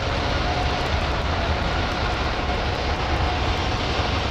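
Big jet engines at London Heathrow roar steadily as they spool up takeoff thrust, a loud, unbroken broadband rumble with no voices over it.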